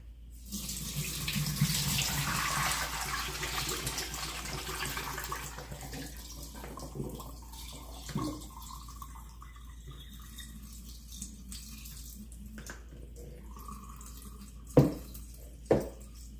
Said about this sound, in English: We're gonna strain off the water.